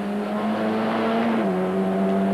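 A Formula Ford 1600 race car drones steadily at high revs while accelerating through the gears, with one clear shift in engine pitch partway through, loud and close with no talk.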